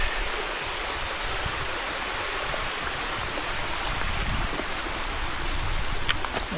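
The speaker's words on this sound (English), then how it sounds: "inlet stream to Heart Lake" Inlet stream rushing into Heart Lake near Sitka, Alaska, a steady, broadband wash of flowing water heard up close and alone, with no talk.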